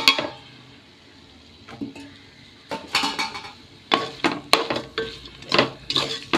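A metal spoon stirs turmeric powder into Goan prawn pulao in a cooking pot, with repeated close scraping and clinking against the pot sides, sparse at first and then in quick, busy clusters.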